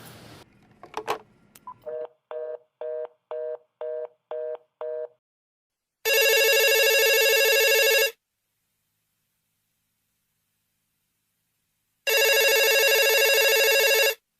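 In a radio play, a phone keypad beeps through a series of dialing tones, then a loud electronic ring sounds twice with a long silent gap between rings.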